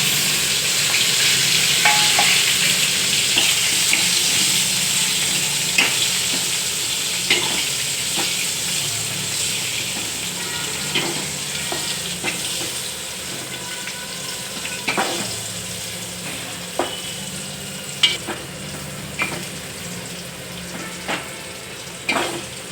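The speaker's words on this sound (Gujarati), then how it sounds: "હવે આપણે ભીંડા તળીને લઈ લેવું" Steady hissing sizzle of okra frying in hot oil, with intermittent scraping and clinking as it is stirred in the pan, growing more sporadic toward the end.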